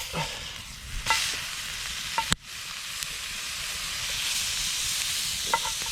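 Steak cooking over an open fire gives off a steady broad sizzle and hiss, with a few sharp pops and crackles scattered through it and one loud snap partway in.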